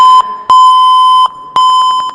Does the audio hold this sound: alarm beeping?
yes